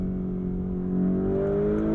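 A 2021 Lamborghini Urus engine drones and climbs under acceleration, a steady low throbbing growl with a rising pitch that swells slightly in loudness partway through, heard from inside with no talk.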